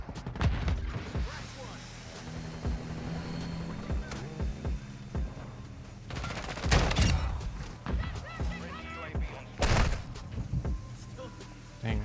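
SMG gunfire during a Call of Duty MW2 match, dense bursts of shots over busy game noise with loud peaks around the middle and near the end, under some background talk.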